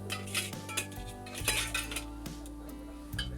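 Metal utensils clink and scrape against a pan while fried gulgule are lifted out of hot oil, a run of close, bright taps and scrapes with no one speaking.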